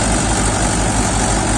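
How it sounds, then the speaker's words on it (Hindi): A Mahindra DI tractor, 2020 model, drives a peanut thresher, producing a steady, loud low engine drone with a constant rumble and no talking. "अभी मूंगफली में चल रहा है महिंद्रा 500 विजेसी डीआई ट्रैक्टर"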